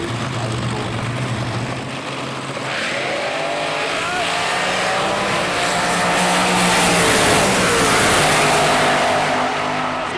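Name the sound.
drag racing car engine roaring down the strip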